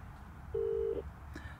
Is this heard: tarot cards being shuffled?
no